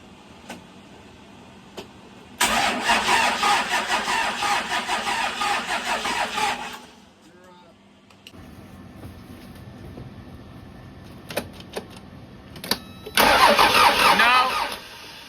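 A Cummins diesel engine cranks in two long bursts separated by a quiet gap, churning loudly each time without catching.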